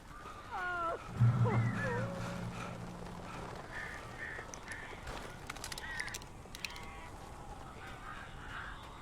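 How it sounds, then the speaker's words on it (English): Birds caw and squawk in Alan Wake Remastered, a few harsh calls early in the clip, then fainter scattered cries over a murky ambient background. "These birds are weird."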